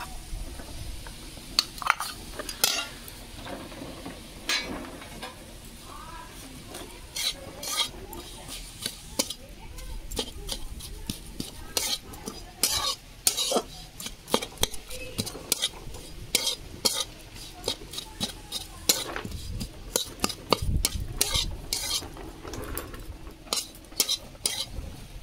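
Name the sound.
stirring coconut and jaggery filling in a wok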